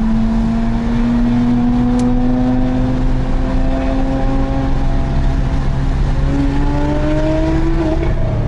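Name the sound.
Porsche Carrera GT engine revving on race circuit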